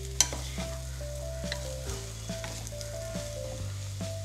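Potato masala fries in a pan while being stirred, with a constant close sizzle and soft scraping stir strokes over a low steady hum, without any talking.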